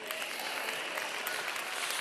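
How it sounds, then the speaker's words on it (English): Church congregation giving a weak, scattered golf clap during a sermon, faint continuous patter of light applause with no voices. "I cannot stand your pitiful little golf clap."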